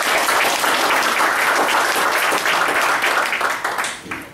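An audience at an Indonesian seminar-style talk breaks into sustained, dense applause from many hands, steady and loud before tapering off near the end.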